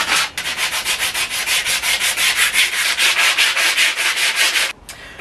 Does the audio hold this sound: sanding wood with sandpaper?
yes